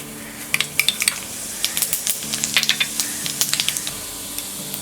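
Crackling sizzle of cumin seeds hitting hot oil, with scattered sharp pops and a few light clinks of a pan and utensil, fairly close.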